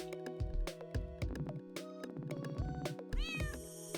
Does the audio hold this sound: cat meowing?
yes